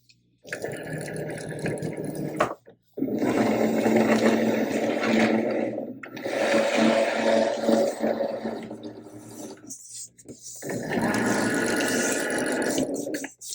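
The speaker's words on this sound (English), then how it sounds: "So let's go ahead and load our machine." A Cricut cutting machine loads and cuts a rhinestone template, heard as steady whirring and rattling motor runs in several long passes broken by brief pauses, loud and close.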